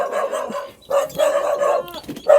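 Several dogs bark in loud, close bursts, a cluster of yapping barks separated by short pauses, with some higher yips mixed in.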